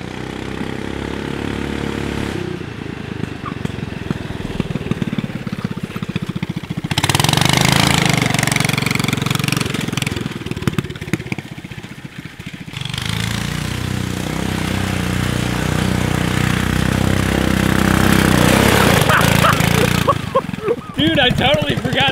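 Subaru-engined Yerf Dog off-road go-kart engine running and revving in bursts, alternating between a rough idle and louder throttle, with people talking over it.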